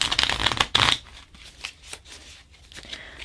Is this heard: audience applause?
no